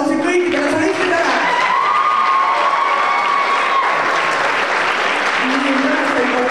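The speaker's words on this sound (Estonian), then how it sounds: "teeme väga suure aplausi kõikidele solistidele" Sustained, dense applause from an audience at a school performance event, honoring the soloists, loud and steady throughout with crowd voices and cheering mixed into the clapping.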